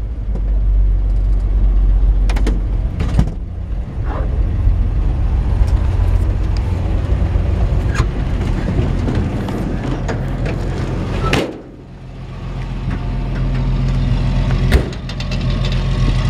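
A 1950 Chevrolet 3100 pickup truck engine runs steadily while backing up in reverse, a loud, close, low rumble with occasional clunks and knocks and a brief dip in level near the end.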